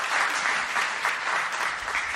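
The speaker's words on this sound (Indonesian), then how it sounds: "Boleh tepuk tangan buat Tuhan Yesus." A church congregation claps together in sustained, dense applause with no pauses, steady and full across the whole stretch.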